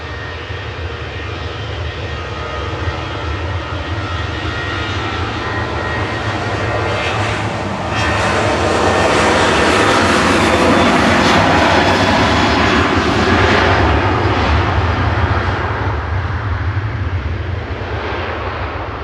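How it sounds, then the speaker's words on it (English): A 13-year-old TUI Boeing 737-800, G-FDZX, takes off from Manchester for Verona with a loud sustained jet roar that builds toward the middle and stays strong with a low steady rumble beneath. "There goes TUI flight 2636 over to Verona operated by their 737-800 GFDZX, a 13-year-old aircraft."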